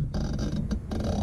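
Clicks from the elevation turret of an ARKEN EPL-4 6-24x50 rifle scope being dialed down, a close run of small sharp detent ticks with brief pauses between groups.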